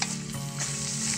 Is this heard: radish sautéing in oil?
yes